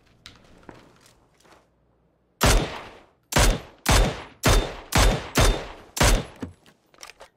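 Rapid bursts of video game gunfire in a solo battle royale match, six or seven loud sharp shots in quick succession after a few faint taps, close and dominant with no talking.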